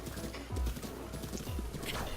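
Horse hooves clip-clop in a quick galloping rhythm from the video game Breath of the Wild, close and moderately loud, with a brief whinny and a faint voice underneath.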